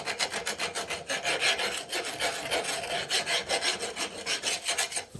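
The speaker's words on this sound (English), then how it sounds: "get rid of some of this excess. It's like rust and corrosion built up in there." Steady rhythmic scraping of rust and corrosion from the throttle area of a 1980 Suzuki TS185 motorcycle, close and fairly loud, with repeated quick rasping strokes and no talking.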